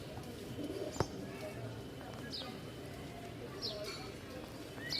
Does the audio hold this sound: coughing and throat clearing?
no